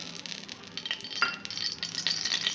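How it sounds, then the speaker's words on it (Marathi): Oil is added to a hot kadhai for roasting rice flour, giving a soft steady sizzle with light crackles and a few scraping, clinking touches from the pan over a short stretch, close and moderately quiet. "कढईमध्ये दोन चमचे तेल टाकून घ्यायचं आहे"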